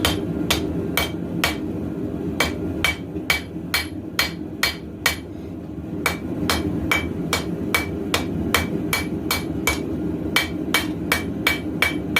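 A hammer strikes hot steel while forging the tang of a clip point knife, a steady run of sharp metallic blows ringing close and loud over a low background hum, with no speech.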